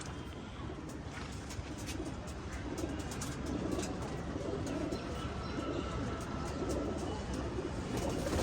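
Pigeons coo softly and steadily in a room while being vaccinated one by one, with scattered chirps and faint rustling throughout, a low, close-by flock sound without voices.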